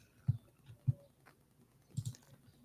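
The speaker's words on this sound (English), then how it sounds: "Just keep clicking your back button" Several sharp computer clicks from repeatedly pressing the browser back button, irregularly spaced, with a couple of closely paired clicks over quiet room background.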